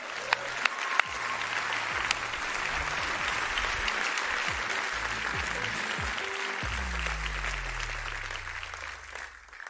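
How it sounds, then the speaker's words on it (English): Audience applause fills a BMW press conference at CES 2023, a steady dense wash of clapping that holds throughout with a few sharper claps near the start and low rumbling stage sounds underneath. "You deserve a big applause."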